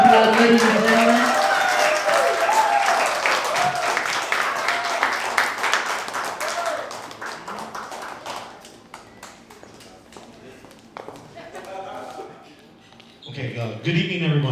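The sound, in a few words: wedding guests applauding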